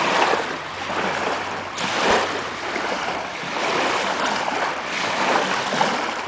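An AC100 boat moves through water during its launch, a broad steady wash of rushing water and surf with some wind noise on the microphone, continuous and fairly loud.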